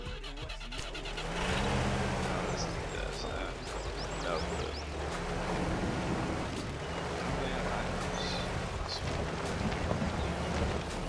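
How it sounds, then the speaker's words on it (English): A car engine in a video game starts and revs, rising into a loud sustained roar that holds in low gear, with engine pitch swelling and easing several times while a person talks over it. "Start engine."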